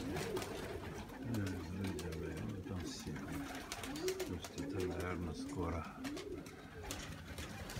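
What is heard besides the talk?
sick pigeon cooing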